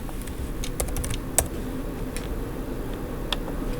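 Bursts of quick clicking keystrokes on a computer keyboard, close and crisp, with one sharper clack partway through and a later flurry, over a faint room hiss.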